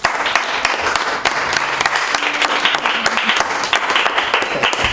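An audience at a Spanish-language gathering breaks into loud, sustained applause. Many hands clap densely and steadily for the whole stretch, with no speech over it.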